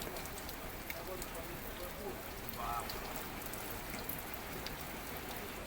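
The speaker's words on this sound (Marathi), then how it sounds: "कुठेतरी रिमझिम पाऊस व्हायला लागले" Steady, even hiss of light drizzle falling over open farm fields near Malegaon in Nashik during the monsoon, continuous and moderately close with no break.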